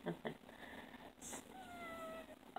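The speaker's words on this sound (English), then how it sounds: "The cat is freaking out." A cat meowing at a moderate distance, with a drawn-out, wavering call midway through and low background noise beneath it.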